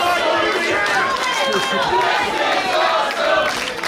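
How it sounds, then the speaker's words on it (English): A crowd of roughly 300 wrestling fans at a live independent wrestling show roars and cheers continuously, a dense, loud wash of voices and shouts with people talking over it. "Listen to this crowd."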